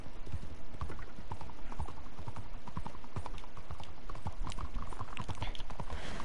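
Horse hooves clip-clop steadily in the Pinkerton video game, a continuous run of close, evenly paced hoofbeats over a busy background with no talking.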